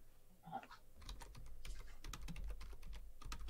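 Fast, steady keystrokes on a computer keyboard clatter quietly and close by, a brief soft sound at the start before continuous typing with no one speaking.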